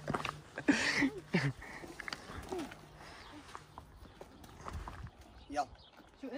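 A white horse's hooves clip-clop at a walk in Lebanon, light uneven strikes close by, mixed with people talking and other outdoor noise.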